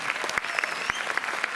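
Audience applause at a film Q&A screening of Triangle of Sadness in a Montreuil cinema: dense, steady clapping from a seated crowd, with a few louder individual claps standing out and a faint voice underneath.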